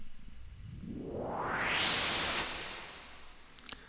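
A synth filter sweep automated in Pro Tools climbs from dark to bright over two seconds with reverb added, then fades away in a soft decaying tail instead of stopping dead, followed by a couple of faint clicks.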